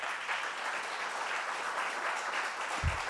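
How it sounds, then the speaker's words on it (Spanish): Applause from the audience at a medical society event, honoring a guest speaker; steady, moderately distant clapping from a room full of people throughout, with a brief low thump near the end. "reciba un aplauso de todos los presentes"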